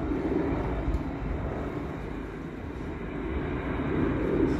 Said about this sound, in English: There's a KC-135 Stratotanker.